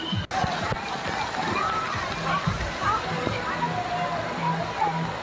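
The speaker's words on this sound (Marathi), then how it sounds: "पाण्याचा मोठा वर्षाव माझ्यावर झाला." A large spray of water pours down onto a rider at a water park, a steady, close, broadband rush that runs throughout, with a voice and other talk faintly underneath.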